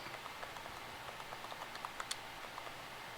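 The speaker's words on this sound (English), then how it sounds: "So while you're typing" Steady, fairly quiet clicking of keys on a computer keyboard, with a few sharper taps, heard alone in a room with no talking.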